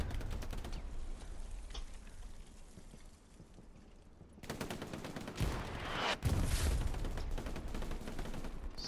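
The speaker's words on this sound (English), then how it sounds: "Explosions all around." Gunfire and explosions in a competitive match of the World War II shooter game Hell Let Loose: bursts of rapid machine-gun fire and single shots crackle over a battlefield din, with heavier booms landing in the second half.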